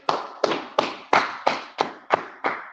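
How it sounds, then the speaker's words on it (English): Eight sharp, evenly spaced hand claps ring out alone in a room at a brotherhood class, each a crisp slap with a short decay, close and loud. "Clap it up."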